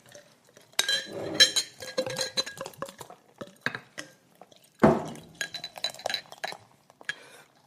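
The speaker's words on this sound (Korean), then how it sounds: "따르는 소리 어마어마하다, 진짜" Asahi lager beer is poured into glasses that clink together, giving a string of bright glassy chinks and taps with a sharp clink near the middle, close and fairly quiet.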